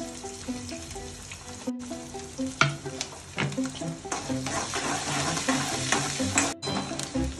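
Chillies fry in a pan with a soft sizzle, broken by repeated scraping and clattering strokes of a stirring spoon and a few sharper knocks, while a faint tonal hum runs underneath and no one speaks.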